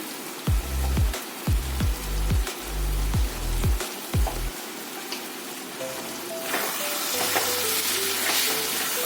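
Prawns frying in a pan with turmeric for a prawn and lentil khichdi. A run of sharp, rhythmic spoon knocks against the pan gives way to a steady, close hiss of sizzling.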